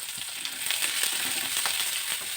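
Peanuts frying in a pan over a high flame, stirred with a wooden spatula, give off a steady, dense sizzle with faint scraping and no talk.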